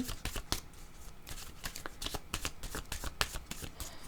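Tarot cards being shuffled by hand, a rapid series of close crisp riffling snaps and slaps, repeated bursts throughout with no talk.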